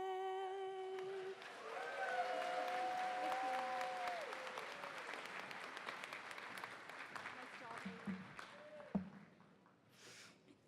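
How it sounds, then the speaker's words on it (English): After the national anthem at a 2019 winter commencement ceremony, the audience breaks into sustained applause. A sung note fades at the start, and the clapping is moderately loud and gradually thins toward the end. "could we have another round of applause for Haley Stewart for her beautiful rendition of the national anthem?"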